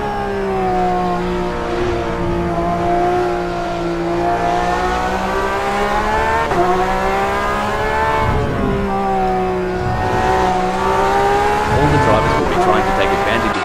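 Porsche 911 RSR race cars roar around Spa-Francorchamps in a racing video game, with engines droning and rising and falling in pitch as they accelerate, loud and continuous, with commentary talk over them.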